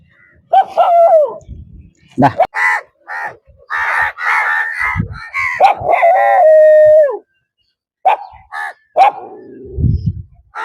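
Dogs bark and howl during feeding time on a remote island, with drawn-out howls mixed with sharp barks, near and loud, alongside some human voices.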